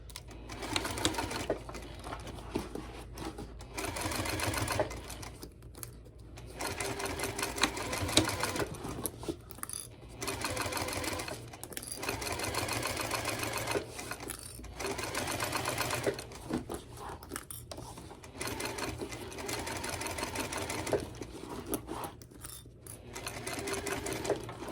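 A cylinder-arm sewing machine stitches a fabric crossbody bag from its exterior side in several long rapid whirring bursts separated by short pauses, close and alone.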